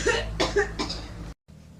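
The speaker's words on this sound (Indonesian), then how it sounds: "batuk sampai saya batuk darah-darah ini" A sick man with chest and throat pain, who says he is coughing up blood, gives three harsh, close coughs in quick succession, then falls briefly silent before faint room noise returns.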